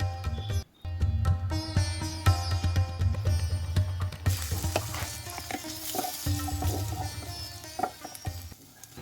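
Split green chilies frying in hot oil in a pan, a loud continuous sizzle broken by clattering stirs and scrapes, with the frying turning louder and brighter partway through.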